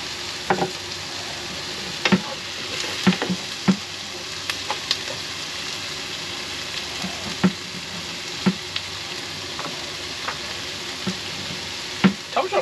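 Onions and carrots fry in a pan with a steady loud sizzle, punctuated by regular clanks and scrapes of stirring, close and continuous with no talking.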